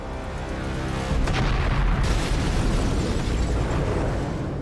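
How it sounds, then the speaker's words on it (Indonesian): A bomb blast in a CIA revenge thriller film swells into a deep, loud rumbling boom after about a second, then keeps roaring with crackling debris for several seconds. "Charlie kabur pas bomnya meledak"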